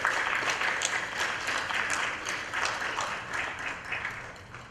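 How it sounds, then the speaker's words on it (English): Fairly distant, soft audience applause greets a young dancer's entry at a Bharatanatyam arangetram, a steady even patter of clapping lasting throughout. "Please give her a round of applause."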